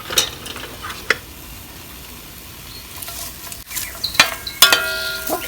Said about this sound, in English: We've chopped up an onion and some garlic. We're going to let that saute here for just a minute or two to soften everything.